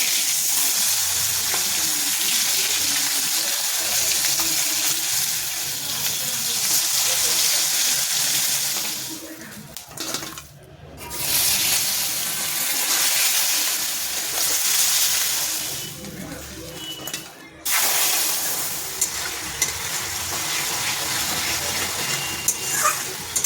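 Fish pieces frying in hot oil in a home kitchen give a loud, continuous hiss and crackle, close by, broken by two brief pauses.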